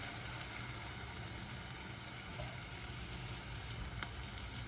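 Onions for homemade pizza sauce steam and sizzle in a pot, a faint, steady hiss with soft scattered crackles throughout, no voices.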